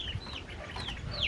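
Backyard chickens cluck and chirp softly in a low, continuous mix of short calls near a feed and water dish, with steady background noise underneath.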